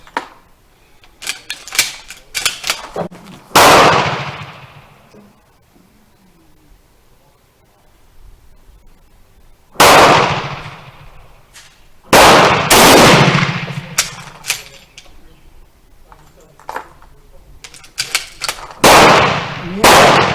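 A Model 1916 Berthier rifle fires reloaded test rounds: five or so sharp, loud shots spaced several seconds apart, each ringing out with a decaying echo, with softer bolt clicks and handling noises in between.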